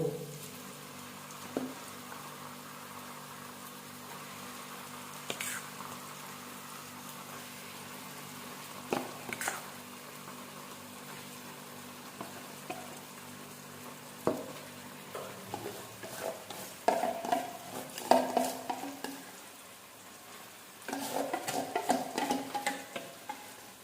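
Spinach puree for aloo palak is tipped into a pan and stirred, making quiet, intermittent scraping and squishing strokes over a faint sizzle that grows busier toward the end.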